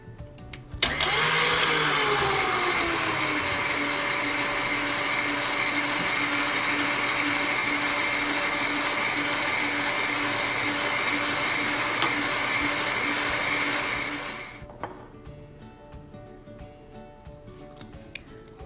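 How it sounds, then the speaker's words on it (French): A stand mixer kneads dough with a steady, loud mechanical whir. The motor rises and settles into an even drone that runs for about thirteen seconds, then cuts off, leaving faint rattles. "Faut bien pétrir au robot ou bien à la main jusqu'à obtention d'une pâte homogène et molle"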